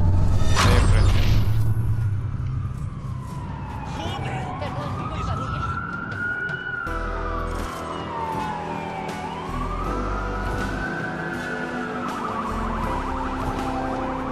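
Police car sirens wail in the Watch Dogs video game around a stadium, sweeping up and down in long rising and falling cycles over engine and street noise, loud and close, with someone talking at times.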